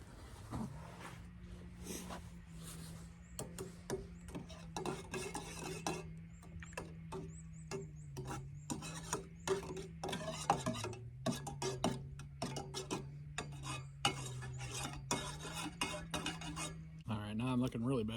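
A metal spoon stirs hot cocoa mix in a cup during off-grid ammo-can cooking, giving repeated light clinks and scrapes against the cup over a steady low hum, close and fairly quiet.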